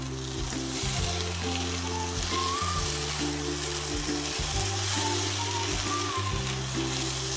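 Bombay duck fish frying in a pan with green chillies, a steady close sizzle and crackle of hot oil that continues unbroken, with a low background hum underneath.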